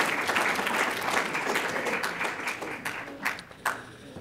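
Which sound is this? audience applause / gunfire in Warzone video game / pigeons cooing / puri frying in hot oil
audience applause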